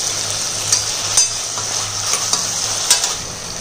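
Tomatoes, curry leaves and two green chilies sauté in a pan with a little salt for a Madurai ayirai fish curry, a continuous close sizzle broken by several scraping stirs of a spoon.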